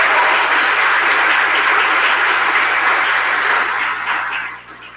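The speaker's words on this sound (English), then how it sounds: "So just give them one more round of applause." Sustained audience applause at an automotive centre grand reopening, an even wash of many hands clapping that holds steady and then thins out near the end, with no talking over it.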